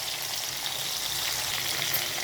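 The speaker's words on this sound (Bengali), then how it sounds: "মাছগুলো একটা একটা করে উল্টিয়ে নেবো, হালকা হালকা ভাজা হচ্ছে" Shatting fish fry in a pan over medium gas, giving a soft, continuous sizzle and crackle that stays even and fairly quiet throughout, with no voices.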